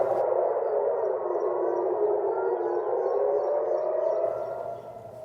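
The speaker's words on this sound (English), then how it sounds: "Sirens warning Israelis to quickly head to shelter as Iranian missiles are headed their way." A loud wailing air raid siren in Israel, warning of incoming missiles, holds a steady rising and falling tone, then begins to fade toward the end; no voices.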